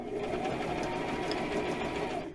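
A sewing machine stitches at an even pace, producing a continuous close mechanical whirr with a fast rhythmic needle rattle that holds steady throughout.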